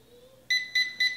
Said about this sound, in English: that's why I always wait until it beeps